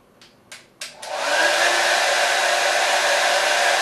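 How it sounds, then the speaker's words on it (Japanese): A hair dryer starts with a few short bursts, then blows a steady, loud stream of air at the middle of a bowl, with no talk over it. "お椀の真ん中あたりを目指してドライヤーの風を当ててみます。"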